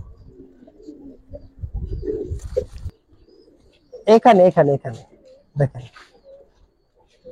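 Giribaz pigeons coo in low, throaty bursts close by, interleaved with someone talking nearby.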